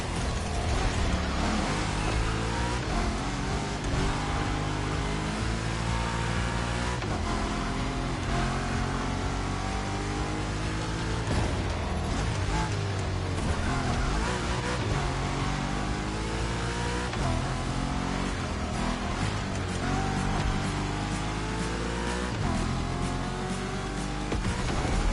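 A supercharged V8 engine in The Crew Motorfest roars steadily and loudly, revving up and down through shifting pitch for the whole stretch, close and continuous with no talk.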